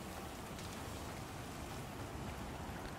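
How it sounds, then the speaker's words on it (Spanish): Rain falling in the video game Icarus, a faint, steady hiss of downpour that stays constant throughout with no voices. "es solo lluvia, no pasa nada"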